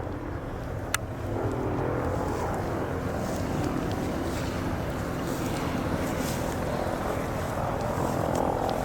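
Mi-26, the world's largest helicopter, runs its engines for takeoff: a loud, continuous broadband roar and whine that stays steady and close, with one sharp click near the start and no voices.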